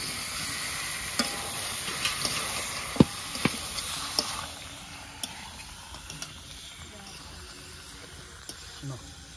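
Meat going into fried spiced masala for a chicken curry: a low frying sizzle under sharp clicks and scrapes from stirring, busier at first and then settling into a quieter hiss.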